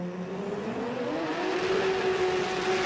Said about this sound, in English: got the burnouts down pat